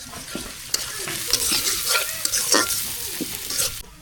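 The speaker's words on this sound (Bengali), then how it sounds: "পেঁয়াজ ভাজা হয়ে গেছে একটু পানি দিয়ে দিই" Onions frying in a pan, with a close, constant sizzle and several quick scraping stirs, then the sound cuts off abruptly at the end.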